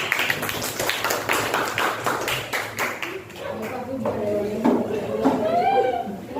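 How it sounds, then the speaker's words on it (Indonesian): A classroom of students breaks into rapid hand clapping, a dense burst of claps that fades after a few seconds into chatter and a teacher's voice. "oke, tepuk tangan untuk."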